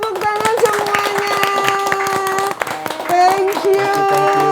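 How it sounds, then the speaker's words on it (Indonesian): Audience clapping at a live virtual talk event, a brisk burst of hand claps with voices speaking over it. "Tepuk tangan semuanya."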